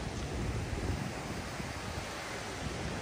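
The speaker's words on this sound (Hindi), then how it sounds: "लहरों की आवाज़ भी सुन सकते हो" Ocean waves at Anjuna Beach, Goa, with strong wind, a continuous roaring surf and gusty wind buffeting the microphone, steady and close, with no voices.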